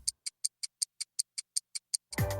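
Sound effect of a ticking clock in a sandwich advert, with about a dozen crisp, evenly spaced ticks at a quick pace, fairly close and alone, cut off at the end by the start of a louder sound.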